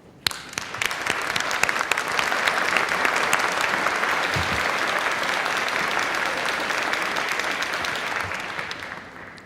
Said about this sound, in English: I think it's time we gave you a round of applause